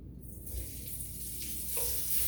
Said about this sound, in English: looks like that grease is hot now. So we're going to add in our onions